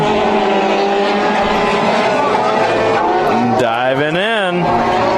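Race cars roar loudly around Bakersfield Speedway in a heat race, a continuous dense engine drone with one car's pitch rising and falling sharply as it passes close by.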